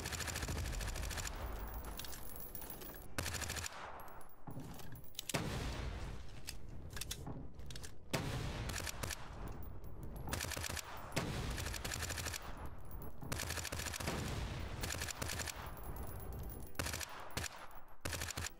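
Video game gunfire in Front, rapid bursts of shots fired in repeated volleys with brief gaps, dense and continuous across the whole stretch, with no voices.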